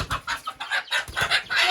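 A hen clucks in quick, close, choppy bursts, several short calls packed into under two seconds with no talk.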